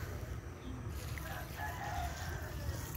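Chickens and a rooster at a coop cluck and call faintly in the background over a low, steady rumble of ambient noise.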